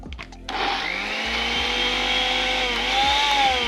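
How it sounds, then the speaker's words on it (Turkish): A hand blender purees a garlic stuffing mixture for beef tenderloin rolls, kicking in after a brief pause and holding a loud, close, steady motor whine that rises slightly in pitch near the end. "gerisi sanırım bızlamaktan başka yapacağım bir şey yok"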